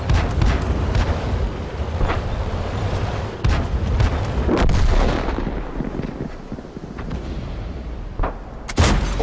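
Artillery shells burst repeatedly in World of Tanks gameplay, with heavy booms and crackling impacts over a dense, rumbling battlefield roar and one sharp blast near the end.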